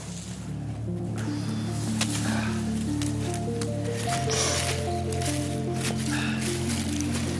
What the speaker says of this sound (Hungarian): Ez egy mocsár.